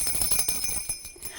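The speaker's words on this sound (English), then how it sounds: "You've seen possibly the jingle bells." Jingle bells from a school music classroom's rhythm instruments are shaken in quick bursts, a bright metallic jangle repeating several times over about a second, close and moderately loud.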